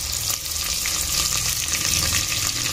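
Ginger and curry leaves sautéing in hot fat in a pan, with a steady, close hiss of frying and light stirring scrapes running throughout, no voices.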